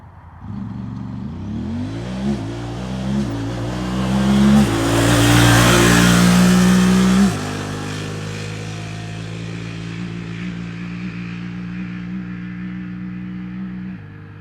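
Honda Talon side-by-side on 32-inch tires accelerating from a standstill to 60 in four-wheel drive, engine revving up through several rising gear changes, loudest midway, then settling into a steady high drone at speed.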